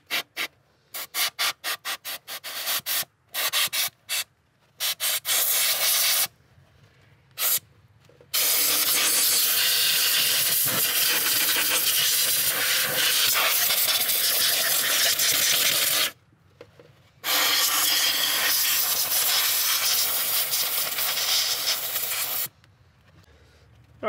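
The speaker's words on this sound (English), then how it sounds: "We wanna take and blow around the cover" Bursts of compressed air hiss loudly in short blasts, then in long sustained blows, close up, with brief pauses between, blowing debris from around the valve cover of a 2010 Nissan Maxima engine.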